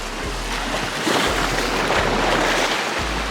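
Waves washing onto the beach at the Cove in Ocho Rios, Jamaica, a steady surf wash with low wind buffeting against the microphone, no one speaking.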